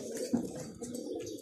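Pigeons cooing in a loft among domestic pigeons, soft low throaty coos repeating close by over faint background rustle.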